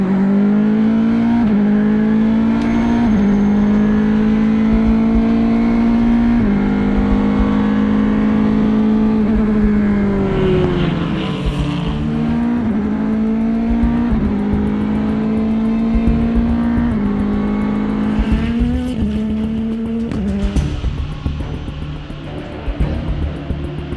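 A race car engine drives steadily through morning practice in Malaysia, its tone rising and falling with gear changes and revs. It stays loud and close, with no talking.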